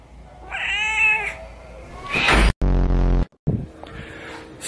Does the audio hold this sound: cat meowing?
yes